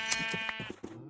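Sheep in Minecraft Sky Factory give a few short, nasal bleats close up, with brief gaps between them and no talking.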